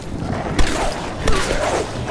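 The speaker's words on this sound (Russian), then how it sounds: "Это выстрел?" Gunfire in Tomb Raider (2013): two sharp, fairly distant reports about a second apart over a steady background of in-game ambience.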